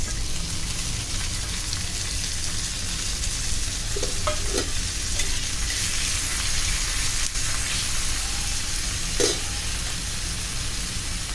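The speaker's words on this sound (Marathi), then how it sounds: "छान परतून घेऊया" Chopped onion and tomato sauté in hot oil for a crab stuffing, a close, constant sizzling hiss with occasional soft stirring scrapes and spatula clicks.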